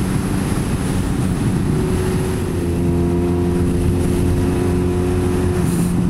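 A 1950 Jawa Ogar 350 motorcycle runs under way on a test ride, its engine giving a loud, steady drone with a rising pitch as it pulls, close and continuous with no talking.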